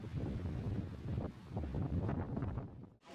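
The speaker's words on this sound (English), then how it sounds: "It is so windy and blustery and rainy out." Strong, blustery wind blows through a cold, rainy street in Narvik, Norway, a continuous low rumble buffeting the microphone, fairly soft and steady before dropping away briefly at the end.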